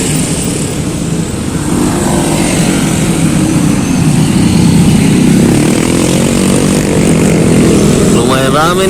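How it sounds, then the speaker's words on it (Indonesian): A Yamaha All New NMAX scooter engine runs steadily on its last reserve of fuel, a close, loud, continuous drone with a brief stretch of talk near the end. "Posisi mesin masih hidup, masih all new NMAX masih bertahan dengan sisa-sisa BBM yang ada."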